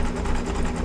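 An embroidery machine sewing stitches for an in-the-hoop appliqué mug rug hums loudly and steadily at close range, a continuous motor drone with rapid needle pulsing.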